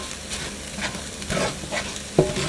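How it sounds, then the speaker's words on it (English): Onions and garlic sauteing in a pan for chicken and shrimp fried rice, a soft steady sizzle with bursts of stirring and scraping and a short clack near the end, with no voices. "we are going to let these onions saute down for about 1 to 2 minutes, but I am going to add my garlic"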